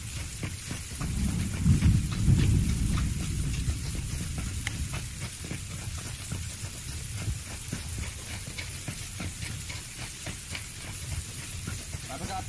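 Rain falls in the PUBG video game as a steady hiss across the whole stretch, with a low rumble near the start and players talking over it.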